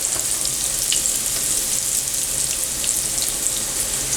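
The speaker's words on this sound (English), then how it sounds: "Now I'm going to start adding some flour." Flour hits hot oil in a pan while making lentil Salisbury steaks, producing a steady, loud, close sizzle with faint crackles throughout and no talking.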